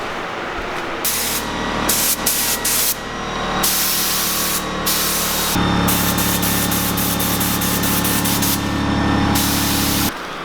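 A spray gun applies clear coat to a Porsche fender in a loud, close, continuous hiss, broken by short pauses in the first few seconds, then a long steady blast over a low compressor drone.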